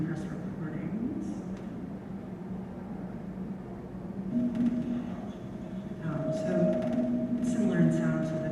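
Time-compressed recording of hours of work on a foam core surface, a dense murmuring rumble with scattered scraping and brushing bursts, faint chirpy accents and a thin sustained tone emerging partway through.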